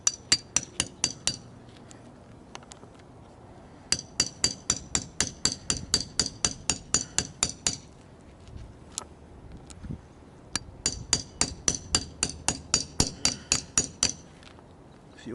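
A rusty outdoor hammer strikes a Chevy Squarebody truck door part in quick repeated metallic bursts, each run of rapid ringing blows separated by short pauses, loud and close.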